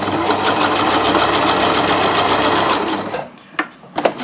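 Domestic sewing machine stitching fabric for a tote bag, a steady fast mechanical whir with rapid needle ticking for about three seconds, then stopping, followed by a few soft handling clicks.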